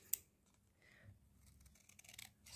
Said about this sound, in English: flip this over and just trim it back.